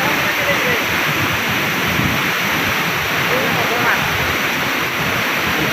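Arale village waterfall roars as a steady, dense rush of falling water, loud and continuous throughout, with a voice faintly audible beneath it.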